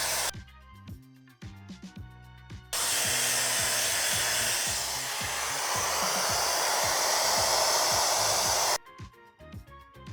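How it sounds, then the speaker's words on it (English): A T3 Aire 360 Pro hair dryer blow drying damp hair, a loud, steady whooshing roar lasting about six seconds, framed by background music before and after. "it said in the thing to blow dry until it's slightly damp and free of excess moisture"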